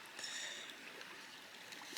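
A Highland river runs beside a grass verge, making a soft, continuous rushing trickle that stays faint and steady throughout.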